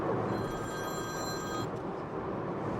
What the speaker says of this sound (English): Somebody's been phoning me.